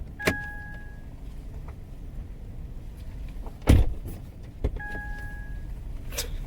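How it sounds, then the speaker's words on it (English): A Jeep Compass door clunks open with a soft thud, followed by a beep-like chime and faint mechanical clicks in a quiet interior. "Opening our door."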